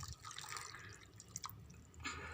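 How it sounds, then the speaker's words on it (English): Water is poured or dripped into a container of gooseberries while making soaked salted amla, a faint splashing and trickling close by, with a few distinct drips, quiet and without speech. "first we need to add some water into this"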